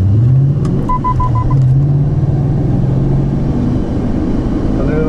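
A BMW M5 E39 and a Hartge BMW M6 convertible sit side by side before a race. A heavy, steady engine rumble fills the air nearby, with a short run of beeping tones early on.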